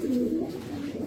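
A Budapest racer pigeon gives a short, close, low cooing call, soft and throaty, lasting about a second.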